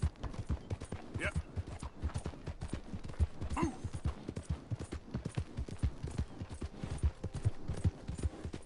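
Horse hooves clip-clopping in Red Dead Redemption 2 as the mount rides along, a brisk, steady stream of close, repeated hoofbeats, with people talking over it at times.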